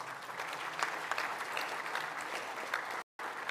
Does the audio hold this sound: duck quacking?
no